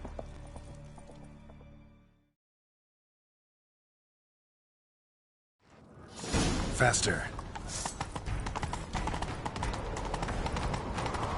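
Horses gallop in a chase in a Western-style game, a loud rumble of hooves and rushing motion that kicks in after a silent gap, following a shouted voice.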